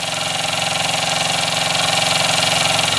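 Weeden model toy steam engine running, a loud, close, steady rhythmic chuffing with a fast regular pulse and a constant mechanical hum.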